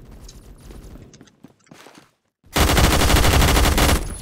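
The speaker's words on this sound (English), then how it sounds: "I hear bullets, but I don't know where they are." Rapid gunfire in the Roblox shooter Phantom Forces: scattered shots up front, a brief lull, then a loud, dense sustained burst of automatic fire close by.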